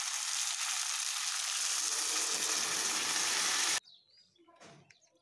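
Fried eggs and a splash of water go into a simmering curry in a pan, setting off a loud, steady sizzle that cuts off abruptly and gives way to quiet, faint sounds.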